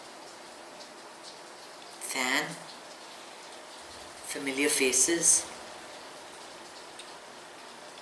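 Steady, soft rain hiss runs through the whole scene as a faint background wash, with two short bursts of talking over it.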